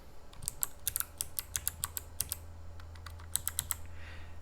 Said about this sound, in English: I have the microphone very close to the keyboard so you can get a better feel for the sound